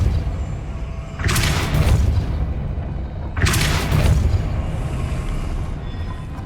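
Two heavy Depulso spell blasts in Hogwarts Legacy, each a loud booming burst with a rushing tail, a couple of seconds apart over a constant low game rumble.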